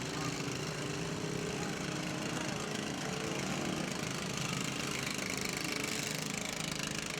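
Lawn mower engines run together in a demolition derby, a steady, continuous mid-pitched droning roar at some distance, with faint crowd or announcer noise blended underneath.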